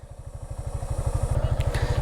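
A motorcycle engine idles close by, its rapid, even low thumping pulses steady throughout, with a brief higher metallic whine near the end.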